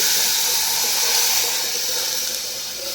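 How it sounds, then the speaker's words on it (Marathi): Boiled water pours into a vegetable curry in a short, loud, steady splashing hiss that eases slightly at the end, with no talking. "हे उकडलेलं पाणी यात घालायचं"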